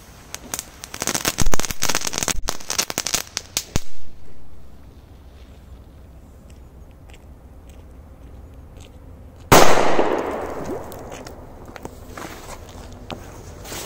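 A loud crackling burst of firecracker bangs set off in ice, then a quiet stretch, then another sharp blast with a fizzing, crackling tail.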